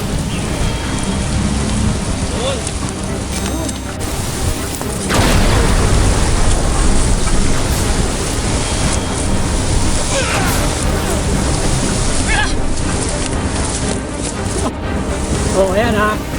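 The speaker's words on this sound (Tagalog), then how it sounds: "Medyo umulan lang ng konti." Steady heavy rain pours down outdoors in Calamba, Laguna, a dense constant wash of drops on surfaces that swells louder partway through, with rumbling and faint voices in the background.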